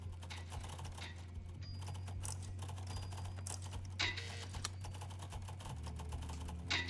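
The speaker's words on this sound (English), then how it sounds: "I hear other people typing" Faint, busy clicking of several people typing on computer keyboards while playing a Steam horror game demo, soft and distant over a steady low hum, with no speech.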